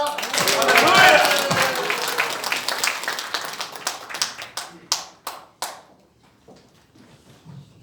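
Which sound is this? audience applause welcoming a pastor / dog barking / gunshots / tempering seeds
audience applause welcoming a pastor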